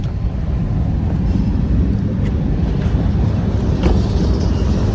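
A train rolls past close by in a steady loud rumble and rattle of railroad cars, continuous throughout with no talk.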